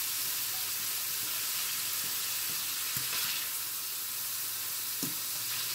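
Ground beef and potatoes sizzle in a pan, a steady close frying hiss with occasional faint stirring scrapes.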